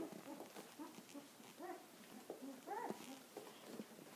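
Three-week-old Labradoodle puppies wrestle nearby, letting out faint, scattered whimpers and high yips in short bursts against a quiet background.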